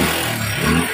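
A Honda TMX125 Alpha motorcycle engine with a new block runs up close, producing a steady, dense mechanical noise with a harsh rattling clatter throughout the brief moment.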